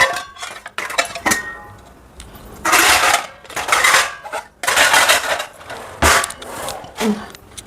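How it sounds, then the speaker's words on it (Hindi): Dishes, pots and utensils being put away in a home kitchen after drying, with repeated clattering and clinking bursts close by, alone without talk. "बर्तन रख लेती हूँ।"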